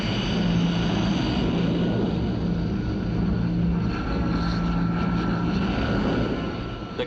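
Kestrel jump jet aircraft flying in a steady, loud sustained roar with a low engine drone, continuous throughout with no pauses.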